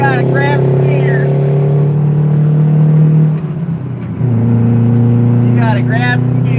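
A car accelerating on a highway, a loud steady engine drone that dips briefly during a gear shift, then climbs again, with a voice talking over it.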